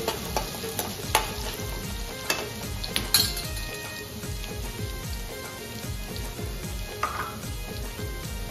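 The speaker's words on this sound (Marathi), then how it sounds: "अद्रक, लसूण आणि हिरवी मिरचीची पेस्ट टाकणार आहे। गोल्डन करून घेणार आहे।" Ginger, garlic and green chili paste frying in a hot pan, a dense continuous crackling sizzle with scattered sharper pops and stirring scrapes throughout, close and steady with no voices.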